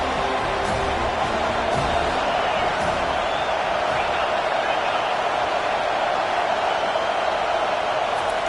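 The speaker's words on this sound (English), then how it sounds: "This crowd bringing an ear-splitting welcome to their visitors." Stadium crowd at a college football game between Florida State and Texas A&M, a dense, loud, continuous roar of cheering that fills the whole stretch without pause.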